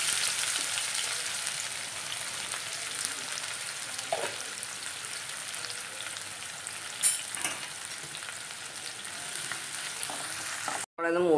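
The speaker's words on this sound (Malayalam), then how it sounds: "അണ്ടിപ്പരിപ്പും മുന്തിരിയും കൂടെ നമുക്കൊന്ന് വറുത്ത് കോരിയെടുക്കാം." Cashews and raisins frying in ghee for an egg biryani, a dense, continuous sizzle up close with occasional stirring clinks, cutting off abruptly near the end, no talk.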